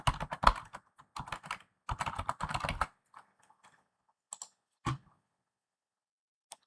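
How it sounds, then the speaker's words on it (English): Clicky bursts of fast keystrokes on a computer keyboard as an email address is typed, in quick clusters separated by short pauses, ending with a few isolated taps. "I'm going to type in the email address for the external user."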